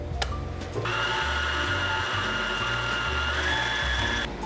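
An electric mixer whirs steadily through Christmas treat dough, starting after a brief clatter and holding a loud, even motor drone with slight shifts in pitch.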